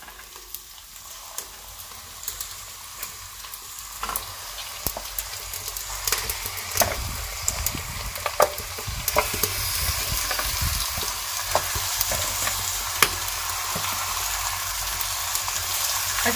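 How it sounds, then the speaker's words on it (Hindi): One kilogram of beef frying in a pan with ginger garlic paste for a village-style Shinwari beef karahi, a loud continuous sizzle that swells and crackles as the meat hits the hot oil and is stirred, with no talking. "अब हम डालेंगे 1 किलो बीफ।"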